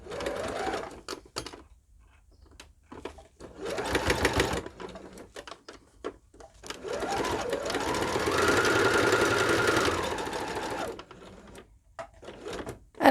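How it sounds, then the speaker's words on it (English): Sewing machine stitching a fabric bowl cozy, several close mechanical runs of rapid stitching, the longest near the end, separated by short quiet pauses. "as you're stitching, it's starting to get a little bit stiffer"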